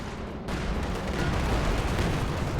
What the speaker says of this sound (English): You can see the hits of the rocket artillery